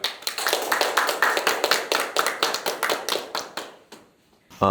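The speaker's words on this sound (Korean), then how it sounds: "큰 박수로 환영해 주시기 바라겠습니다" An audience at a financial forum in Seoul applauds to welcome the session chair, a dense burst of many clapping hands, fairly close and loud, that thins out and stops near the end.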